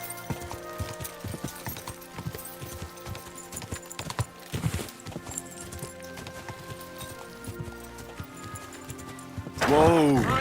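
Horse hooves clip-clop steadily in Kingdom Come: Deliverance II, a regular rhythmic clatter under faint background sound, ending with a loud, close neigh.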